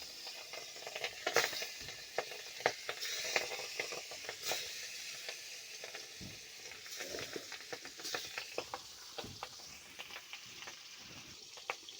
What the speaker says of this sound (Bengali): কড়াইয়ে মাছ দিয়ে দিচ্ছি।